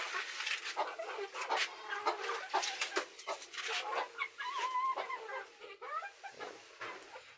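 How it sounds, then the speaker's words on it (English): Hungry chickens on a small village farm in rural Kenya cluck and squawk continuously, busy and fairly close, a dense chorus of short calls with no talking. "Looks like the chicken are very hungry"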